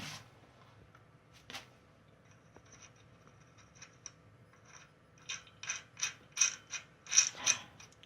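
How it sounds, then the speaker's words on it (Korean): A bolt is tightened on an old bicycle being repaired: a run of quick, fairly faint ratcheting clicks in a steady rhythm that grow louder toward the end, after a few scattered light taps. "그 다음에 볼트 쪼셔야죠 볼트를 쪼여주면 됩니다"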